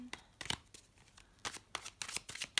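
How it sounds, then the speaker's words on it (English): A large pile of tarot cards is shuffled by hand in quick, irregular bursts of riffling and slapping, close and moderately quiet, with brief pauses between bursts. "It's quite a big pile and they all fell face down, so I'm just gonna go ahead and keep shuffling."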